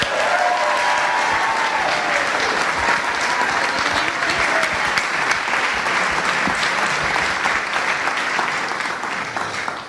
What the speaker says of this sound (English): our judges are due a really large round of applause